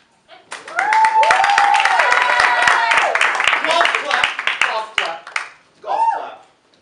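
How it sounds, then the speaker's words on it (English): An audience at a live LuchaProv improv comedy show gives a sparse, soft golf clap, a few scattered hand claps heard under a loud, continuous speaking voice. "Golf clap."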